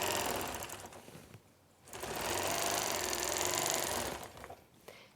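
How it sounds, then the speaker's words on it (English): A sewing machine stitches in the ditch on a baby quilt, running loud and close in two long sustained bursts separated by a brief pause. "Just going to sew in this ditch again, right to that point."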